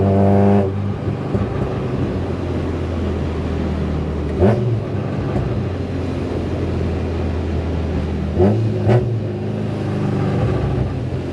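A Honda Civic with a naturally aspirated B-series VTEC engine runs loud and close with a steady droning hum, rising in a couple of brief surges as it revs toward 8,500 RPM.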